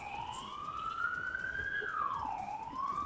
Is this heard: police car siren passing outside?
yes